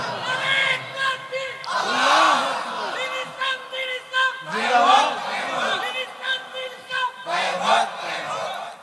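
A crowd at a daytime Islamic religious gathering answers the preacher with loud chanted takbir, several swelling collective shouts rising and falling in waves between his spoken lines.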